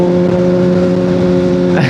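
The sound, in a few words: Honda CBR600RR motorcycle engine revving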